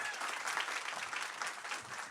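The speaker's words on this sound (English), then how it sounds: "Give him a warm applause." Steady applause from an audience fills the whole stretch, dense and even, with no voices standing out.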